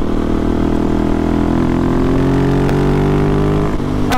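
Husqvarna 701 Supermoto motorcycle engine running steadily and loud up close, a constant mid-pitched drone with a slight rise in tone toward the end and a sharp click near the finish, no talking.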